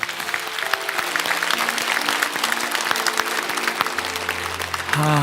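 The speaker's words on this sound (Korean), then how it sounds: "우리 사랑의 마음으로 다시 한번 박수하겠습니다" Church congregation applauding in a worship service, a dense steady wash of many hands clapping throughout, with background music tones and a brief voice near the end.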